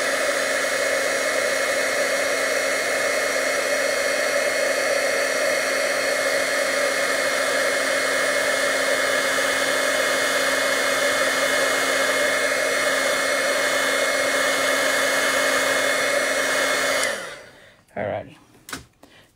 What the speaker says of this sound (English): I'm going to bring the heat tool and we're going to see this.